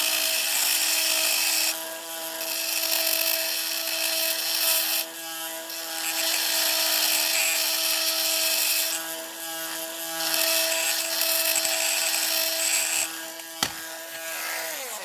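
A small power drill whirs with a steady high-pitched whine, stopping and starting several times in bursts of a few seconds each, while taking apart a 1972 Matchbox K-15 Londoner toy bus.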